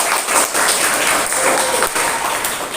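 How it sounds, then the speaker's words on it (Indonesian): A classroom full of people claps steadily, a dense continuous patter of applause lasting the whole stretch at fairly loud volume. "Tepuk tangan untuk kelompok 1."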